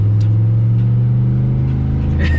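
A supercharged, cammed V8 race car with full exhaust rumbles loud and close, holding a deep, steady, throbbing engine tone throughout with no talking.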